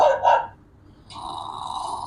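A dog sound effect from a video editing app: a short doubled bark or huff at the start, a brief quiet gap, then a sustained tonal whine or drawn-out vocal that holds steady to the end.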